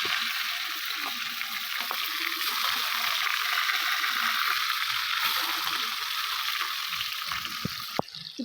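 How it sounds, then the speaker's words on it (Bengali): Fish fries in hot oil in a wok with a continuous bright sizzle and scattered crackling pops, close and steady, ending with a few clanks. "দেখো কড়াই বসিয়ে দিয়েছি, মাছটা ভাজবো।"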